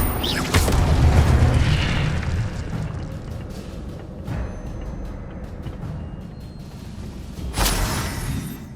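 A fire spell cast in the Hogwarts Legacy video game: a deep booming whoosh that swells at the start, a sustained rumbling roar, then a second bright burst near the end, with no talk.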